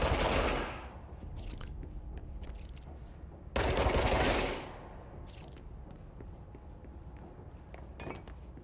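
Gunfire in a shooter video game: a burst of loud broadband blasts opens, a second heavy burst follows midway, and scattered fainter shots and clatter fill the gaps, all without talk.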